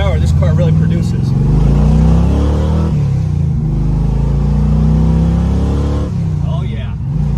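A 1971 Chevrolet Chevelle accelerates hard, its engine roaring loud and close with a steady low rumble and a brief dip around a gear change, while people talk over the noise.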